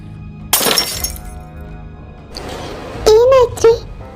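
Glass shatters loudly in a single crash, with scattered fragments trailing off, during a rainy midnight scene; a little later people speak in raised, alarmed voices.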